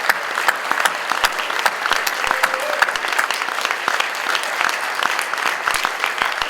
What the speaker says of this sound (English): big round of applause for our 575 speakers this week.